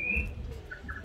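A recorded tui call plays from a push-button display in a museum: a bright sustained whistle opens, then a few shorter tonal notes follow, fairly clear against quiet room noise.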